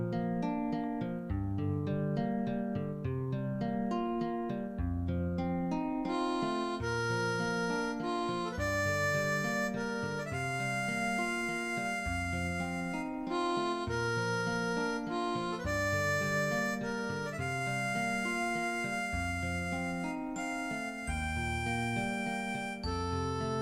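Original music from the video game Zelda: Ocarina of Time plays as a bright, continuous melodic theme with plucked and sustained instrument tones over a steady rhythmic accompaniment, with no talking.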